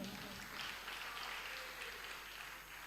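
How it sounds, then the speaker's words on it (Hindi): A crowd at a Hindi religious discourse claps in a continuous, even wash of applause that sounds somewhat distant and holds steady for a few seconds. "ऐसे ताली बजाओगे तो नहीं होने वाला, थोड़ा जोरदार बजाओ भाई।"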